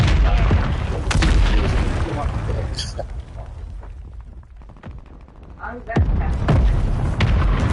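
An enemy bomb exploding in the Warzone video game, several heavy booms and blasts rising and fading over a few seconds, loud and close, mixed with a voice talking.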